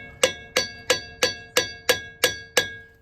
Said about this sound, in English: I'm going to take this hammer and try and loosen it up